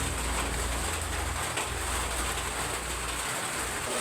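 Steady rain falls outdoors, a dense, even hiss that runs without a break from start to finish, close and fairly loud, with no voices over it.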